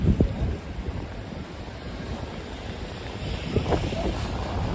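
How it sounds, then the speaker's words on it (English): Wind and rain on a New York City night make a steady, rough broadband rush with gusting wind buffeting the microphone and a few brief louder bursts, with no one talking. "It's a very windy and rainy night in New York."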